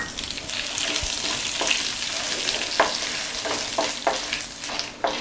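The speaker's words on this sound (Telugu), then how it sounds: "తుంచుకున్న ఎండుమిర్చి వేసి వేయించుకోవాలి" Loud, steady sizzling of dried red chilies frying in hot oil, with occasional sharp crackles and pops and a few stirring scrapes, close up.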